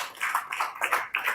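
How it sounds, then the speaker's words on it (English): An audience at an International Women's Day event gives a brief, light round of clapping for an arriving guest, with scattered hand claps in quick irregular bursts and no voices. "Please let us clap for her as she's coming."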